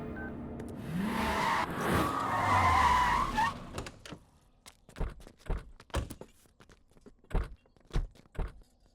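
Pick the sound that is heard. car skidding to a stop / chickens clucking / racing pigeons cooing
car skidding to a stop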